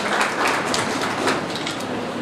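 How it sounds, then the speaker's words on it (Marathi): An audience at a Marathi poetry and ghazal event honoring the poet Wamandada Kardak claps for a guest, a brief, fairly loud burst of steady applause with no voices over it. "तरी सरांसाठी एकदा 2 टाळ्या होऊ द्या."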